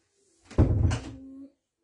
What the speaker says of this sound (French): tu fermes la porte hein.